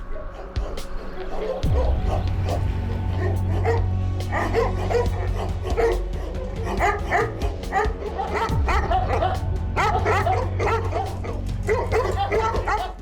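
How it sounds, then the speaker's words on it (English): Trained guard dogs at Lepoglava prison in Croatia bark repeatedly at nightfall, a steady run of sharp woofs and yips close by, over a constant low rumble with faint voices in the background. "specially trained dogs are employed to maintain control over some 500 of the most dangerous men in the country"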